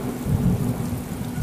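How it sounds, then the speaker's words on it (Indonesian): A low rumble of thunder rolls under steady rain that patters on a surface, fairly close and continuous. "Ini backgroundnya malah suara hujan dan petir."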